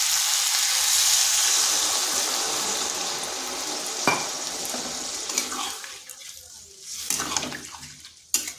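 Water poured into a sautéing okra and potato curry, a loud rushing splash and hiss that fades into bubbling sizzle and a few clinks of stirring.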